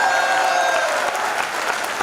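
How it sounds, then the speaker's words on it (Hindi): Audience applause at a Hindi kavi sammelan poetry recital, a dense steady clapping from a large crowd that fills the whole moment at full strength before thinning slightly toward the end. "आपकी तालियां कमजोर है"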